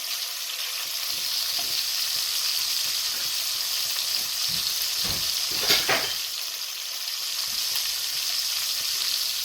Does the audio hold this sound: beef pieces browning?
yes